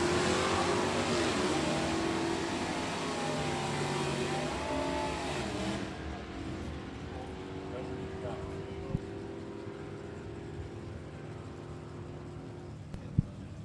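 A 1983 white Camaro H-Stock automatic making a drag racing run, a loud engine roar that fades as the car pulls away at a drag strip, with an announcer talking over it.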